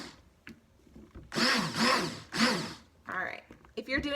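A blender pulses coffee blended with coconut oil in three loud, whirring bursts of roughly half a second each, with quieter pauses between them and a few short rattling sounds near the end.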